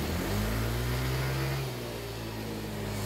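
A top-overhauled Yamaha Mio i 125 scooter engine with a big-bore resize runs close by, a steady low hum with a slight dip in revs midway, alone without talk.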